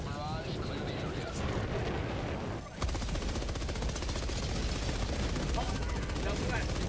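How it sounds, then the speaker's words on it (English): An orbital barrage strike in a video game: a dense, continuous roar of explosions builds and briefly dips, then erupts into a rapid, rhythmic hammering of impacts that stays loud and unbroken, with faint voices under it. "Firing orbital barrage. Clear the area."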